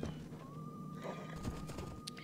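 A horse in the Age of Empires 2 HD Edition video game neighs with a rising whinny, joined by quick clip-clop hoof steps, moderately loud with no voice over it.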